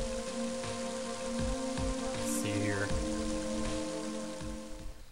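Steady rainfall in the video game Mother 3, a soft continuous patter under game music, with a brief spoken line partway through.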